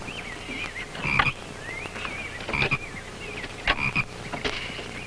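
Toads croaking in a quiet outdoor setting, a few short rattling calls rising at intervals over a faint steady background, with no voices.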